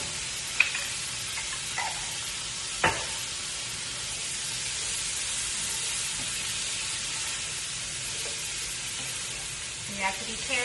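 Minced garlic sizzles steadily in a hot pan for a Thanksgiving side dish, with a few soft scrapes and taps of stirring breaking through the continuous frying hiss.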